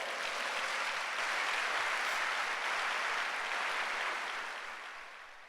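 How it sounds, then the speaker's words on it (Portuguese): Church congregation at a congress applauding the Lord, a soft, even wash of many hands clapping, held steady before gradually tapering off. "Dê um aplauso ao Senhor."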